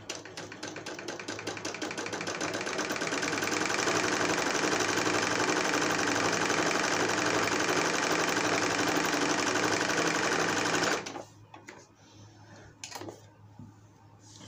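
A plain-stitch sewing machine runs steadily while stitching pico edging, a loud, fast mechanical whirr with rhythmic clatter for about eleven seconds before stopping, followed by softer handling sounds.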